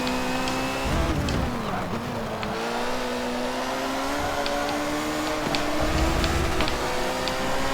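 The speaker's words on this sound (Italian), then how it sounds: "Molto esaltante il rumore del turbo di questa lancia." A Lancia's turbocharged engine roars in Forza Motorsport 7 during a multiplayer race, its steady revving drone shifting pitch as it accelerates and holds speed, loud and continuous throughout.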